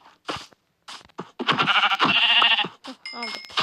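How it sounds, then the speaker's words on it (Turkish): Sheep bleat on a mountainside in several separate calls, some overlapping into a longer chorus, close and clear against otherwise quiet surroundings. "Aha koyunlar buldum."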